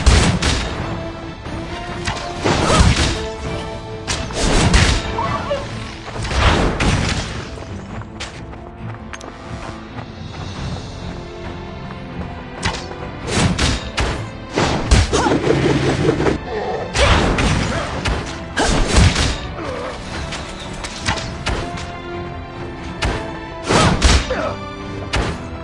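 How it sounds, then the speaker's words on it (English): Cannon fire in the video game World of Kings: heavy booms and crashing blasts go off in irregular bursts, loud and close, with rumbling and clatter between them. "Let the cannon roar."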